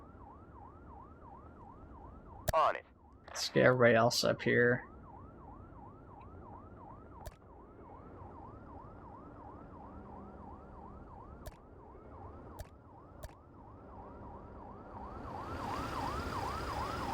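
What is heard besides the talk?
ambulance siren in Fire Commander video game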